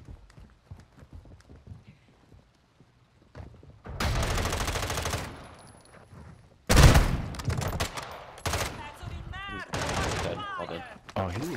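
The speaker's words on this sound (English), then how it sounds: "Shooting through the walls." Gunfire in the video game DMZ, with shots fired through walls, comes as dense bursts of rapid, loud automatic fire in two long stretches, mixed with sharper single cracks and players talking.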